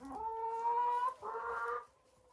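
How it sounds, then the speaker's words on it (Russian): A Czech crested dominant hen clucks close by in two drawn-out, tonal calls, with a short gap between them and no voices. "Вот эта курочка. Вот она."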